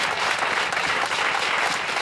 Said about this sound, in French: Acclame très puissamment Jésus.